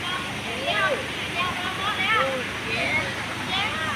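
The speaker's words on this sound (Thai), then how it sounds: "เป็นน้ำตก" Steady rushing water from Chae Son waterfall, a continuous broadband wash under whistling, chirping sounds that may be birds or voices, moderately loud throughout.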